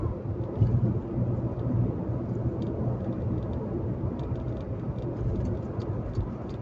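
Light rain patters faintly outside a moving car crossing the Tsing Ma Bridge in Hong Kong, a steady soft hiss over low engine and road rumble, with occasional tiny drop ticks.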